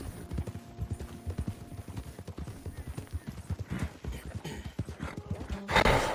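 Horse hooves clip-clop in Red Dead Redemption 2, a brisk, steady trot of close, hollow thuds that ends in a burst of louder noise.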